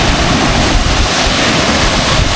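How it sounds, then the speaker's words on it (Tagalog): Water pours down a dam spillway in a loud, steady roar of broadband rushing noise, close by and continuous throughout with no voices. "Ito yung hulugan ng tubig."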